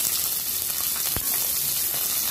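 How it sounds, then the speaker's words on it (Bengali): Nigella seeds sizzle in hot oil, a steady close frying hiss with a brief stir or clink partway through. "কালো জিরেটা যখন তেলের মধ্যে ভাজা হয়"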